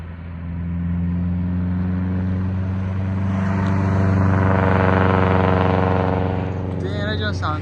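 A Subaru STI fitted with a full catless downpipe and a full titanium catback exhaust revs, close and loud, its deep droning exhaust note swelling and easing over several seconds with a rising whine near the end.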